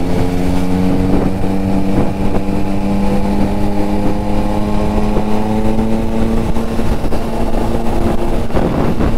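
A Triumph Street Triple motorcycle engine runs loud and close with a steady, rich drone. Its pitch climbs gradually under light throttle, and there is no talking.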